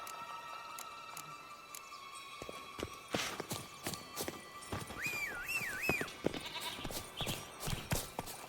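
Horse hooves clip-clopping in The Witcher 3: Wild Hunt – Blood and Wine, a steady run of hard hoof strikes with a faint ambient hum and a brief whistling tone partway through.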